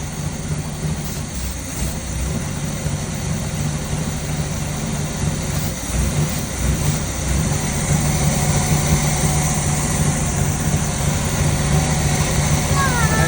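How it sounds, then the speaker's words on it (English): A 1986 Sea Ray Pachanga 454 boat engine runs steadily at idle, a continuous low hum with a constant tone throughout, while fogging oil goes down the carburetor; a voice speaks over the engine. "while the engine's running, we're going to put some fogging oil down the carb"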